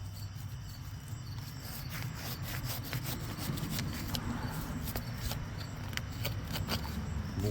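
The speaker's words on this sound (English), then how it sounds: "I can sand it and polish this" Sanding a tarnished aluminum rim from a 2014 Cadillac ATS, a continuous gritty rubbing with rapid strokes and sharp scratchy ticks, close and steady over a low rumble, with no talking.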